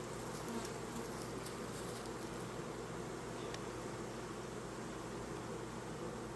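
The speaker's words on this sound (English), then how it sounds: "This thing is full of bees." Bees fill a hive during an inspection, their dense, steady buzzing a close, continuous drone throughout, with light rustling of frames.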